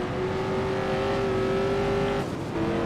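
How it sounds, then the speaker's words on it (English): An Eagle Indy race car with an Offenhauser-based engine races at the 1978 USAC Molson Diamond Indy, its engine holding a loud steady tonal whine before briefly dropping off and returning. "Seems to be running very low, using all the grunt of that Offenhaus-based engine"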